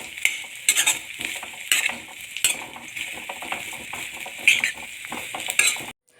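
Chopped coconut frying in ghee for unniyappam, stirred with a utensil: steady close sizzling crackle broken by repeated scraping and spatula clinks, with no voices.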